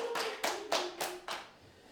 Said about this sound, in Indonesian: Tepuk tangan buat Unis Bray.